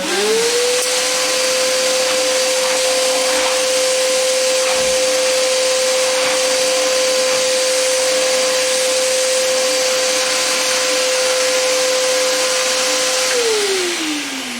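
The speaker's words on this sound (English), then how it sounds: "I can confirm it works as a vacuum cleaner." A Lidl Parkside PNTS 1400 H4 wet and dry vacuum cleaner whirs up to a loud steady drone, runs continuously, then winds down at the end.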